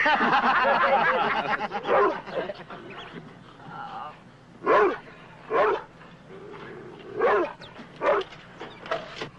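A dog barks in short loud bursts, about five spaced woofs after an opening stretch of whining and yipping, with people talking around it.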